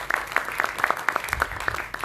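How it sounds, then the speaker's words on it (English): An audience at an anti-tobacco film festival in Goa claps in a brief, moderately dense burst of applause, with distinct individual claps audible in the room. "Big round of applause to you."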